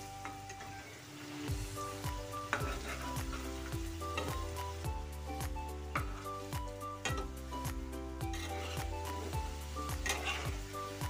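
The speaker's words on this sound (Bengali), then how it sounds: "এখন আমি এই আলুগুলোকে লাল লাল করে ভেজে নেব।" Salted boiled potatoes fry in oil until browned, a steady close sizzle broken by regular spatula scrapes and taps against the pan.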